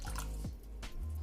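Milk pours and drips steadily into banana carrot bread batter in a bowl, with a few gurgling splashes and a low continuous hum underneath.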